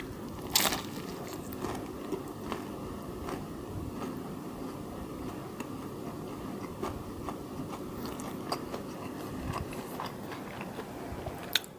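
Crisp bites and crunchy chewing of a fried chicken burger on a brioche bun with cheese and sriracha mayo at a Korean McDonald's, close and fairly quiet, with a few sharper crunches early and late over steady mouth noise.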